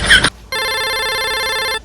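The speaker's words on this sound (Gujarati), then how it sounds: "કેમ ફોન ઉપાડતા નહીં?" A phone rings with a steady electronic tone lasting over a second, right after a short burst of voice, in a Gujarati comedy sketch.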